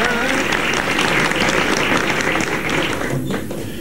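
An audience applauds steadily after a military chief rabbinate choir song, dense continuous clapping at close range that tapers slightly toward the end, with voices murmuring underneath.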